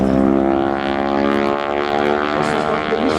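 A North American T6 propeller aircraft at an airshow drones loudly and steadily nearby, its radial engine giving a rich harmonic buzz with slight swells in pitch.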